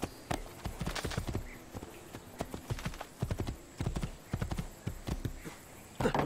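Horse hooves clip-clop in a steady trotting rhythm from the Assassin's Creed 2 video game, with a brief whinny and close, fairly loud steps throughout.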